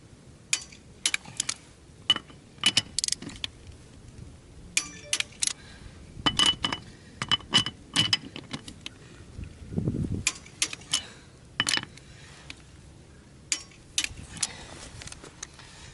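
A torque wrench tightens the wheel lug nuts on a Kubota B2650 tractor, giving sharp metallic clicks and ratcheting ticks in irregular bursts. The sounds are close and fairly quiet over a low background, with no speech.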